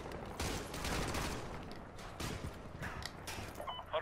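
Sustained automatic gunfire in Modern Warfare 2 Remastered, dense rapid bursts of shots crackling near and loud for several seconds, easing into scattered pops with mechanical clatter toward the end.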